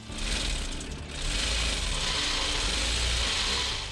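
Tailors' sewing machines run in a steady, loud mechanical whirr with a dense rattling hum, briefly dipping then resuming, close by and with no voices.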